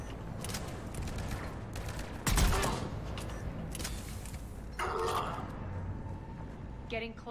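Gunfire in the video game Mass Effect 3 sounds in repeated bursts of varying loudness, one sharp heavy blast standing out, mixed with mechanical clanks and game effects.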